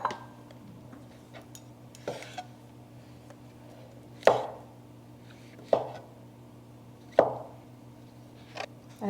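Rinsed mushrooms trimmed and sliced with a knife on a cutting board, a few sparse, separate chopping knocks spaced a second or more apart, close but soft over a low steady background hum.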